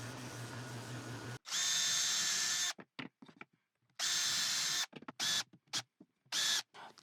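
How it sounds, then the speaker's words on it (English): A power sander shapes a wooden jig handle in a few close, loud bursts of high whirring, the first long and the later ones shorter and choppy, split by brief quiet gaps and light handling sounds. "And now with my sander, I'm just going to refine the shape."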